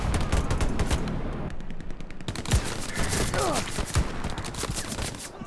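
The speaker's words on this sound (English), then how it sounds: "Panic shooting." Dense, rapid gunfire rattles throughout a World War II battle in the video game Hell Let Loose, overlapping rifle and machine-gun bursts at close to middle distance, loud and continuous.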